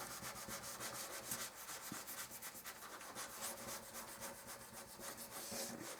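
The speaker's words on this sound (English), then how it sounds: "Rub all the way around, and it takes off any glue marks you've got." Clean tissue rubbed around a Christmas craft to lift off glue marks, giving a faint, continuous papery scuffing with quick repeated strokes, close up and heard alone.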